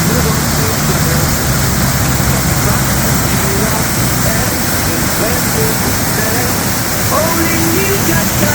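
A waterfall's cascades pour in a steady, loud, unbroken rush along a hiking trail, a dense roar filling the whole stretch with no pause.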